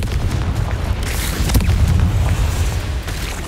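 A fiery Confringo spell explosion in the Hogwarts Legacy video game booms loudly and continuously, a dense rumbling blast with crackling bursts throughout.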